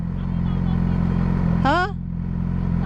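A motorcycle engine drones steadily on the road, loud and close, while a voice cuts in briefly near the middle.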